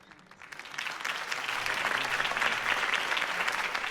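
A crowd in the Telltale Batman game breaks into applause after Harvey Dent's campaign speech. The clapping swells from a thin start into a broad, sustained roar of many hands that holds steady to the end.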